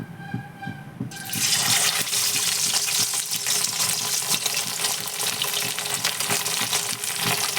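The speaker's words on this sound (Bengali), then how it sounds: "এইবারে আমি মাছগুলো আস্তে আস্তে ছেড়ে দেবো" Fish pieces slid into smoking-hot mustard oil for a Bengali fish curry. Quiet at first, then a loud, steady sizzle bursts in after about a second and crackles continuously close by, with no talking.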